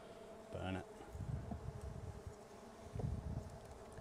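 Honeybees buzz around an open Flow Hive being prepared for winter. A louder, nearby drone swells briefly and passes, then a steady, busy hum of many insects continues throughout.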